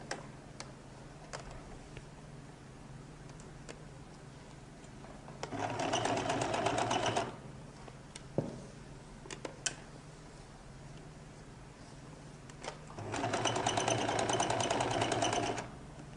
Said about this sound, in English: I can begin to sew